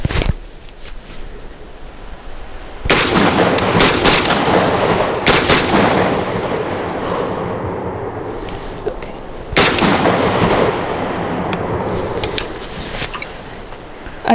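Large-format AK-style handguns fire in loud outdoor bursts, rapid sharp shots with a long volley opening near the start and another later, separated by echoing decay and gaps.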